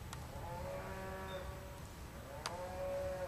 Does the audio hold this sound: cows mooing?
yes